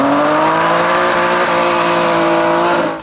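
Porsche 911 driving past, a loud sustained engine tone that climbs slightly in pitch before fading at the end, alone with no talk.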